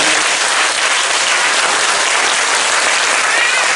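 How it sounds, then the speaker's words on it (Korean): A church congregation claps in a loud, dense, continuous burst of applause that fills the whole few seconds without a break. "우리 한번 박수로 격려해 주시기 바랍니다."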